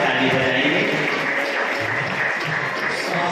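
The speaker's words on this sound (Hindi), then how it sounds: "आप सभी लोग जोरदार सभी लोग ताली बजाएंगे।" An audience at a foundation-stone laying ceremony applauds loudly and continuously, a dense wash of clapping filling the whole stretch without pause.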